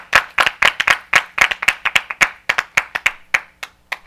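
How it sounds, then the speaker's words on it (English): Audience at a church class clapping hands in a sharp, uneven burst of individual claps, close and loud, a small group rather than a large crowd, with no talking. "Let's clap for Brother Joshua."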